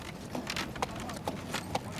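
Horse hooves clip-clopping during a horse and carriage tour in Frankenmuth, a few sparse, fairly faint clops over steady outdoor background noise.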